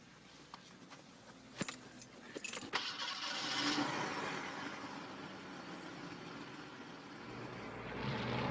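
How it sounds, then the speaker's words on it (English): A car engine cranks after a few clicks and thumps, then catches and settles into a steady idle that holds to the end, heard close and moderately loud. "would you mind terribly starting the car?"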